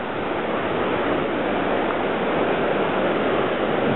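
Rio Grande river water rushing through a rocky gorge in the New Mexico Wild Rivers area, a steady, dense broadband roar of flowing rapids heard close, continuous and unbroken with no talking.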